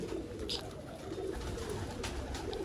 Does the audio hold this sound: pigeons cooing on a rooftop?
yes